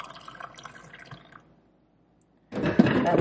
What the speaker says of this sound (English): Pouring up the coffee.